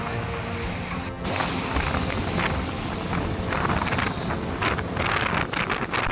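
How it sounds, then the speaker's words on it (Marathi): Huge sea waves break on tall black rocks on the coast beyond Gorai beach, a loud, continuous rushing surge heavily buffeted by wind on the microphone. "उंच काळे खडक, त्यांच्यावर आदळणाऱ्या प्रचंड लाटा"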